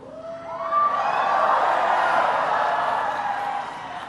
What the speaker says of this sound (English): It's an amazing crowd.